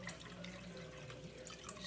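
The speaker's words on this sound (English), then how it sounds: "I'm going to do is go ahead and add a little bit of water" Water is poured into a pot of noodles on a kitchen stove, giving a steady, soft running trickle that lasts the whole moment at low level with no talking.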